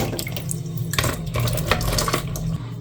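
Running tap water splashes steadily into a kitchen sink as an ingredient for ofada sauce is washed, with occasional clinks of dishes and utensils, loud and close.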